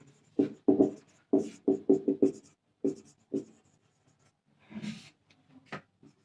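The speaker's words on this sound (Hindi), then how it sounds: "तो मैं यहां पे लिख दूं" A pen scratches quickly across paper while notes are taken in a pharmacology class, a run of short close strokes in bursts with brief pauses between, no talk.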